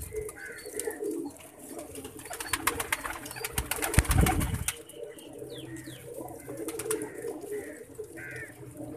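Pigeons in a loft coo softly and repeatedly, with brief wing flaps and chirps among them and a short louder clatter near the middle, all fairly faint and close.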